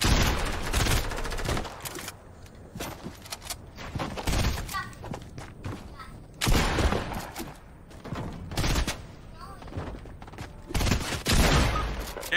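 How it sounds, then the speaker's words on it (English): Rapid bursts of gunfire from the video game Fortnite crackle in loud clusters with brief gaps between volleys, while a man urges on a teammate over the shooting. "Get him, Jeremy. Shoot him"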